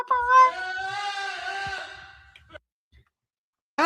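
A goat bleat sound effect plays once, a loud wavering cry lasting about two seconds, followed by near silence and a brief noise at the end.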